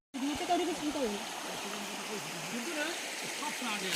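A waterfall stream flows in a steady, continuous rush of water. A person talks over it throughout, and the voice stays in the foreground.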